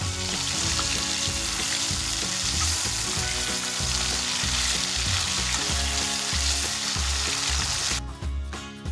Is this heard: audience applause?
no